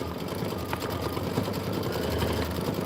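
An embroidery machine stitches a Pennant 1 shadow fill design, giving a fast, even mechanical whir with a steady needle rhythm and a low motor hum throughout, with no talking.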